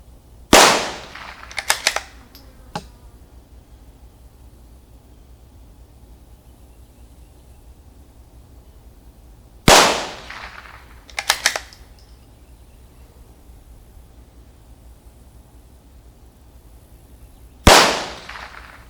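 CZ 457 Scout .22 LR rifle fired outdoors, with sharp cracks spaced several seconds apart, including a quick pair, each loud and ringing briefly over faint background hiss.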